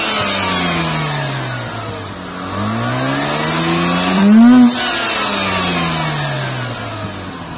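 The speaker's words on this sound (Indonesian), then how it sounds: "mesin Wankel alias rotary, suaranya pun enak banget" Mazda RX-8 rotary Wankel engine starting and revving up and down in smooth sweeping swells, rising to a sharp peak then falling back to idle, loud and close.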